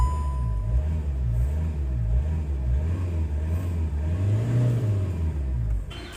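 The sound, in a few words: car engine cold start and revving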